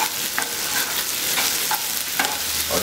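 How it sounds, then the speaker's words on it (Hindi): Onions with salt frying in a pan for dahi besan ghatta, a dense continuous sizzle up close with a few soft spatula strokes scattered through it. "और इसको हम एक मिनट बस फ्राई करेंगे"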